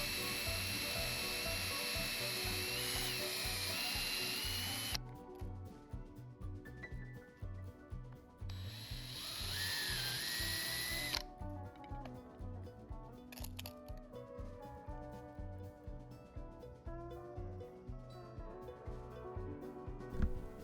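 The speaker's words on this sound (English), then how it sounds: "it takes a little more time for the drill bit to get through." A power drill bit grinds steadily through a metal spoon, its whine shifting in pitch as it bites, then continuing in rougher, uneven bursts.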